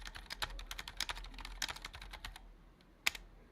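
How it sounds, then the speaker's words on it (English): Computer keyboard keys clatter as a password is typed, a quick run of close, soft taps that slows, pauses, and ends with one sharper keystroke, likely the enter key. "I'm gonna have to type in my passwords again."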